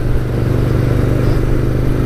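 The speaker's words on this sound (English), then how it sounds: "shifting into first gear pretty quickly. Right now we're in fourth gear." Steady engine drone of a 2017 SSR Motorsports Buccaneer motorcycle cruising in fourth gear, heard close and loud from the rider's position with no talk.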